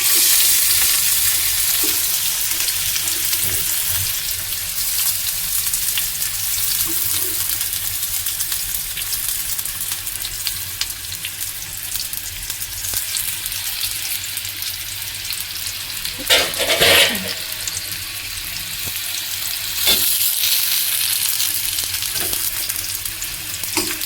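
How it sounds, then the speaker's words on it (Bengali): Chopped onion sizzles and fries in hot oil in a pan, a continuous loud hiss with occasional stirring clatter and scraping, no talking. "তেল গরম হয়ে গেছে, এবার দিয়ে দেবো পেঁয়াজ কুচি।"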